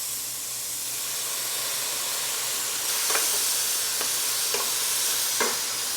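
Tomatoes go into a pan of turkey puttanesca with olives and tarragon, giving a steady hiss of sizzling and a few short scraping stirs, close and moderately loud with no talking.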